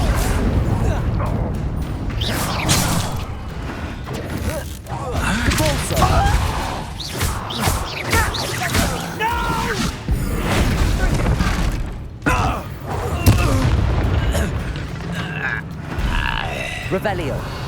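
Blasting-spell explosions in the wizard game Hogwarts Legacy, repeated booms and crashing impacts amid combat clatter, with grunts and voices shouting over the fight.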